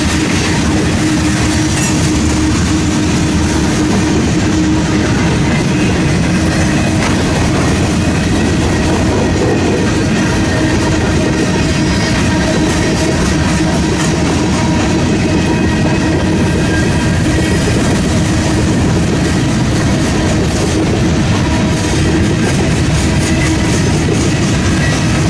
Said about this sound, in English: Comes our mid-train DPU, and then another 2 to 3 miles worth of manifest.